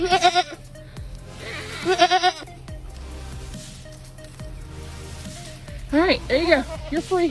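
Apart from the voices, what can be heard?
goat bleating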